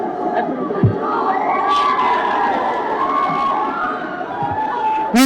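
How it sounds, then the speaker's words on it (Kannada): A large crowd at a film trailer launch cheers and shouts loudly, with whistles and excited voices over a continuous roar that stays near and sustained throughout. "ಮತ್ತೊಮ್ಮೆ ನಮ್ಮ ಎಲ್ಲ ತಂತ್ರಜ್ಞರಿಗೆ ದಯವಿಟ್ಟು ಜೋರಾದ ಚಪ್ಪಾಳೆ ಬರಲಿ."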